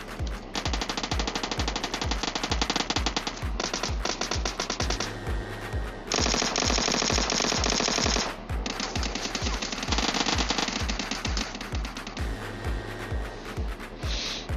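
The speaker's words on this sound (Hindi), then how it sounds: "अरे यार कितने तरफ से फायरिंग पड़ रही है यार" Dense automatic gunfire from several weapons in the PUBG Mobile battle royale game, sustained rapid bursts with steady loud volume and short pauses, overlapping shots layered throughout.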